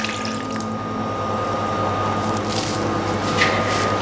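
Hot stock made from hot water and two stock cubes pours steadily into a pot for an Asian hot pot, a continuous close liquid splash and trickle with no talk.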